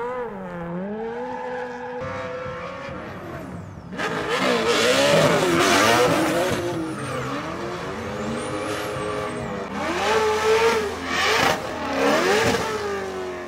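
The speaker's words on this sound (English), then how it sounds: "the Hoonigan guys doing a simultaneous 43 car burnout for 43 seconds in honour of Ken Block" Hoonigan cars rev hard and do a simultaneous 43-car burnout at SEMA Ignited, making a loud, dense roar of many engines that swells and surges with screaming revs for the whole stretch.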